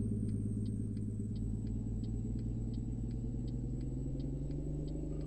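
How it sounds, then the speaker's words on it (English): A Kenworth K100 truck hauling an oversize trailer coasts downhill in neutral with no engine brake, giving a steady low mechanical rumble with faint rhythmic ticking, close and continuous, no voices. "I've just decided to drop into neutral and coast down here."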